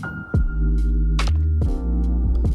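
Hair clippers run with a steady motor hum while working clipper over comb on a high drop fade, blending up toward the parietal ridge; the buzz dips and thuds briefly each time the comb shifts.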